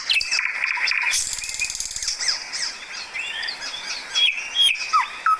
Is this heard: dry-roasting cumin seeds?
no